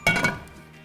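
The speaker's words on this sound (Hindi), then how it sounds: "फ्राइंग पैन देंगे आप मुझे" Frying pan set down with a bright metallic clink of dishes in a kitchen, one sharp close hit followed by a short ringing decay.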